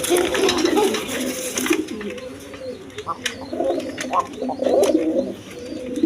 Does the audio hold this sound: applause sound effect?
no